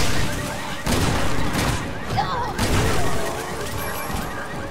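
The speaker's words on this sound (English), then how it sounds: "Shotgun." Shotgun blasts in the video game Resident Evil 6: loud booming reports and rattling crashes layered over dense game action and music, with voices in the mix.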